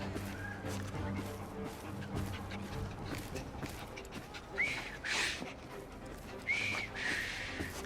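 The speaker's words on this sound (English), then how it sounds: "I've just learned to whistle." A character whistles in the Assassin's Creed Syndicate video game, short bright whistled notes rising out of a busy background of game ambience and music, with a dog-like whimper nearby.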